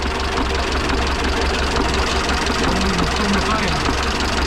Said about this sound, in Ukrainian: Звук такий головку б'є паршень.